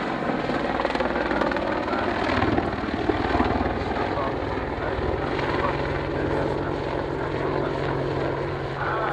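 An Apache helicopter arrives for an air display, its rotor beating in a loud, continuous throbbing drone that holds steady throughout.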